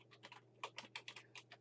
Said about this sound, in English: now we can just start typing